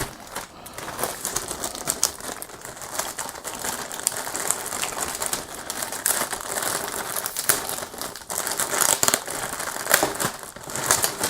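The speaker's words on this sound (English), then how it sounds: "I'm going to go ahead and open this bag so that we can take a better look." A plastic bag holding parts of a 1/32 Revell Arado Ar-196 A3 model kit is handled and opened, with close, continuous crinkling and rustling and sharp crackles throughout, no voices.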